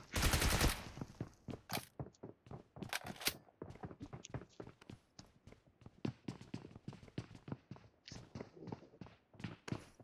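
Gunfire in the video game PUBG: rapid bursts of shots and single cracks, loud near volleys at the start and then quieter repeated shots scattered across the clip, mixed with footstep-like clicks and little talk.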